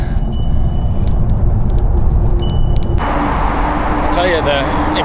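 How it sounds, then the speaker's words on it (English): A car passes loudly through a road tunnel, a sustained heavy roar that swells with a sharp shift at about three seconds, echoing and filling the space throughout. "the intensity of a car passing in the tunnel is very loud"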